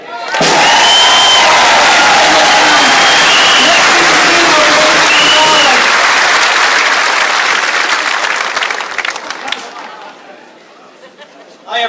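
A large rally crowd at an anti-austerity gathering in the National Stadium breaks into loud, sustained applause and cheering with whistles, filling the hall for several seconds before fading, with voices talking at the close.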